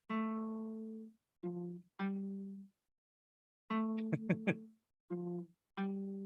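A clean jazz guitar picks out a slow melody of sustained single notes with pauses between phrases, and a brief flurry of quicker plucked notes in the middle.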